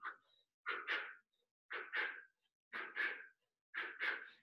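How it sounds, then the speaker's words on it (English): Sharp, forceful exhales come in a regular rhythm of about one per second, each one a double puff, as a person throws left-right shadow boxing punches during a low-intensity workout. The breaths are close and fairly quiet, with silence between them. "Hear me breathing."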